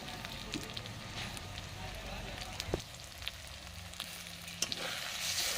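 Tomatoes hit the hot pan in a goat meat curry, a soft steady sizzle with occasional sharp clicks and stirring taps, fairly quiet and close.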